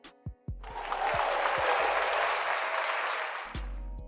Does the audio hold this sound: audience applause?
yes